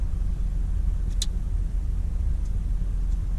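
Steady traffic noise from a roadway passing above a creek, a constant low rumble of cars with no break and no talk.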